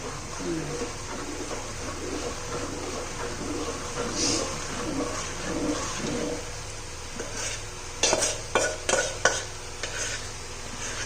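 Gram flour and oil mixture being stirred into hot sugar syrup for Mysore pak, a steady soft sizzle and bubbling with repeated scraping, then a cluster of sharper utensil knocks near the end.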